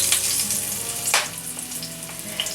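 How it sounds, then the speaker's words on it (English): Meat frying in hot grease in a home kitchen pot, with a continuous crackling sizzle and sharp splatter pops, one bigger burst midway, with no voices. "A little splatter."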